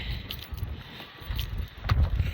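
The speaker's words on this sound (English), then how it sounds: "it's kind of windy" Gusty wind buffets the microphone in low rumbling bursts, strongest toward the end, with no voices.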